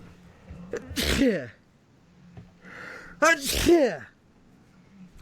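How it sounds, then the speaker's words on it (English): Two sharp sneezes about two seconds apart, close and loud, separated by quiet room noise. "Whenever I sneeze on recording, I always hate it so much"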